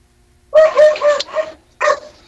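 A dog barks several times in quick succession, loud and close, with a short pause before one final bark.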